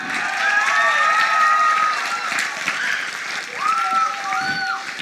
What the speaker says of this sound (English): That was him who started the clapping back there.